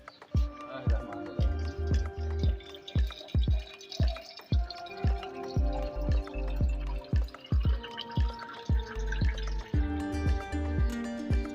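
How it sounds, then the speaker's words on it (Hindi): Cold water poured into a glass over ice while making raw mango sharbat, with repeated clinks and trickling splashes in an uneven rhythm, close and fairly quiet. "अब इसमें पानी शामिल करेंगे।"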